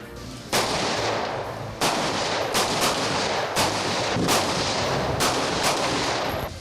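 Sharp pistol shots crack one after another at irregular intervals on a shooting range, loud and close, with a noisy outdoor backdrop between shots.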